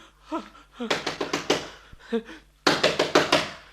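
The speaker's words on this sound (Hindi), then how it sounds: "दरवाजा खटखटा।" Within a dramatized radio play, a fist knocks on a door in two bursts of rapid, loud, close raps, separated by brief breathy vocal sounds.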